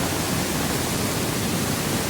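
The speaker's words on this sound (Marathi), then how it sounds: "ते पाणी बघा असलं येतोय जोरात" A river in full flood in the Konkan roars past close by, a loud, dense, unbroken rush of churning water with no voices over it.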